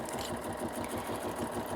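A sewing machine stitching metallic thread through tight fabric at slow speed, a steady close mechanical whir with a fast, even needle rhythm and no pauses.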